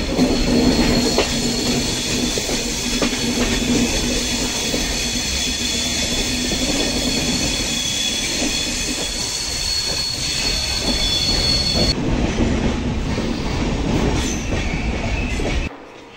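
A train rolls past close by on the approach to Howrah station, loud and continuous, with a steady rumble, rhythmic clatter over the rails and high squealing wheels, before cutting off abruptly at the end.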